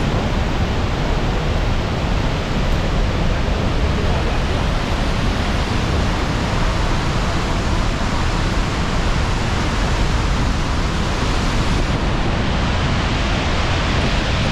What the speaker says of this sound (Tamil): சரியான வேகமாக தண்ணி ஓடிக்கொண்டிருக்கு.